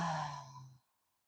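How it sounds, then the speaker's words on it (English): An audible exhale during a yoga breathing exercise, one soft breathy sigh through an open mouth lasting under a second, close and gentle, then quiet. "this time an audible exhale."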